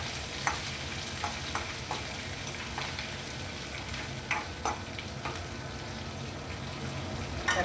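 Curry leaves crackling in hot oil in a frying pan along with green chillies, a steady close sizzle broken by sharp little pops and spatters throughout.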